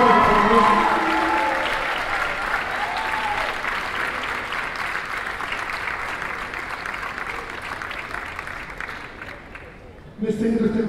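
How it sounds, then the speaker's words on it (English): An audience at a spring dance concert applauds a staff member being recognized, sustained clapping that starts strong and gradually thins. Near the end a voice begins speaking over the fading applause. "Let's give her a big round of applause."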